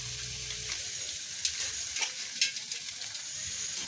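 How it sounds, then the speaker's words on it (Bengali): Cauliflower pieces hit a pan of frying ginger and are stirred, giving a soft, steady sizzle with a few sharper scraping clinks of the spoon against the pan. "এবার আমি যে ফুলকপির টুকরোগুলো কেটে রেখেছিলাম সেগুলো দিয়ে দিচ্ছি"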